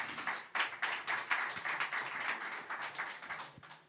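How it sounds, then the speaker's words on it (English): A small audience claps after a panel on intergenerational water and food systems, soft, uneven applause with distinct individual hand claps, fairly faint and fading toward the end. "A round of applause, please"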